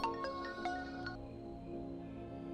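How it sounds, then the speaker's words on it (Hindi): A mobile phone ringtone rings with a bright, repeating melodic pattern of tones that cuts off after about a second, leaving a faint sustained hum behind. "शैलू का फोन है, अब बोल, क्या बोलूं उसे?"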